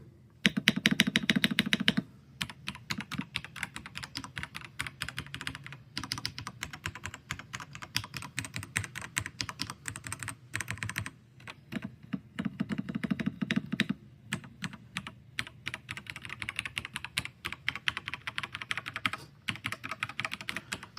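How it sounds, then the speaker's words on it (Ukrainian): Steady typing on a Keychron C3 Pro mechanical keyboard with red linear switches, fast and continuous keystrokes with a soft, muted clack, close up, with a few brief pauses. "це клавіатура не гучна, тут е, Red Switch, е, тобто червоні лінійні, як кажуть, вони тихі"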